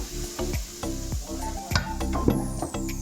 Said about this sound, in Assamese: তাৰপিছত গৰম তেলখিনি ময়দাখিনিত ঢালি দিছোঁ।